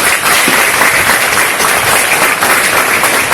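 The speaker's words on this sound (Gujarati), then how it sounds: "મેડમ માટે તાળીઓ." Loud, dense clapping from a room of commerce students, given for a teacher during a candid talk session. The applause is close, sustained and even throughout, with no voices breaking through.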